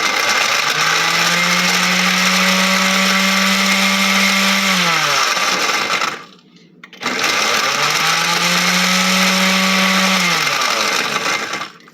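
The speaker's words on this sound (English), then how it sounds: "this blender is my mom's from 1965" A 1965 kitchen blender grinding bread into breadcrumbs, loud and close, its motor whining steadily for about five seconds, dropping out briefly, then roaring again in a second long burst.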